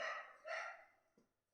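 Dogs bark a few times from a distance, two clear barks and then softer yips spaced apart.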